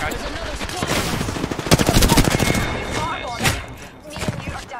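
Rapid bursts of Apex Legends gunfire rattle in quick clusters, punctuated by thuds and impacts, with loud peaks in the middle and lighter shots trailing off.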